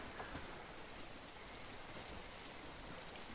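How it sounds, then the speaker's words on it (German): Steady rain falls in the medieval village-building game Bellwright during wet, snowy winter weather, a soft, even hiss of drops that stays constant and faint throughout, with no voices. "Es schneit und es regnet."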